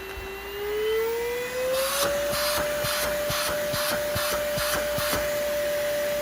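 A cheap Amazon stick vacuum runs on its low suction setting, its whining motor rising in pitch as it spins up, then holding steady while rhythmic bursts of airflow pulse and tap through it.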